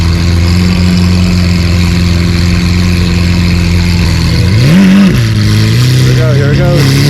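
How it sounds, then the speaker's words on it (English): A car engine idles loudly and close at a car meet, then is revved twice in quick swells near the end before settling back. "Rev it up, rev it up. Love the sound of that, man."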